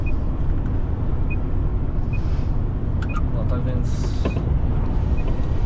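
A DAF XF 105 460 truck engine drones steadily from inside the cab, a constant low rumble beneath a voice speaking over it.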